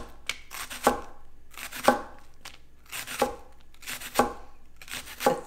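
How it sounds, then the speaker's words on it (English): A knife slices vegetables into thin pieces on a board for a chicken and pasta dish, making close, crisp chopping strikes that come in quick clustered bursts of several cuts each, with short pauses between clusters and no voices. "Just cut it in really thin slices."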